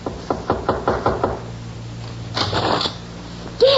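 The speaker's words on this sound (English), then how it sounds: "Then he stumbled to the door of Joy's room and knocked." Knocking on a bedroom door as a radio drama sound effect: a quick run of about seven close, firm knocks, then a pause and a brief muffled rustle.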